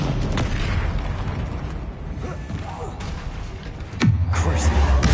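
Bombarda explosion spell cast in Hogwarts Legacy, a sudden heavy boom near the end with a low rumbling tail, loud and close after a stretch of creaking, clattering combat noise.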